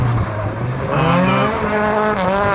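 A Mark 1 Escort rally car in the super modified class revs hard through a Scandi flick on a hillclimb, with a loud, close engine note climbing and shifting in pitch as it passes.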